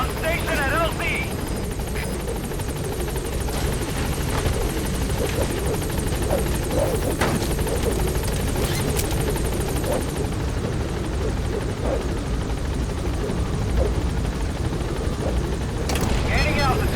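Pequod helicopter from Metal Gear Solid V arriving at a landing zone, a steady loud rotor drone and engine whine held throughout, with radio-style voices talking over it.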